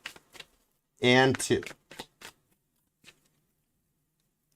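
A tarot card deck is shuffled in short, crisp riffling bursts, with a brief spoken phrase between them and quiet gaps after.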